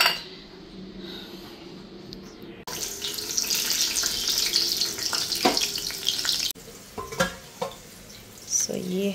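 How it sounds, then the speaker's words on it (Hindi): Green chillies frying in a hot pan, four of them cooked for chole kulche, giving a steady loud sizzle and crackle that flares up after a couple of seconds, with some stirring clatter and a brief tap-water rush nearby. "यहाँ पे हम फ्राई करेंगे हमारे ग्रीन चिलीज"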